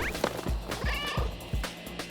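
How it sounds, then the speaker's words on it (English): A cat meowing as it splits in two in the Schrodinger's Cat Burglar video game, a short mid-pitched meow over thumping footsteps and game effects. "the recognizable sound of a cat splitting in 2"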